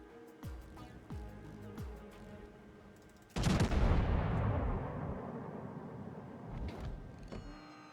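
Secondary guns firing aboard the German cruiser Admiral Schröder in the video game World of Warships: light mechanical clicks and tones at first, then a sudden loud blast with a long rumbling decay, followed by further softer reports.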